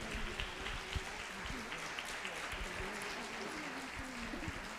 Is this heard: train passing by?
no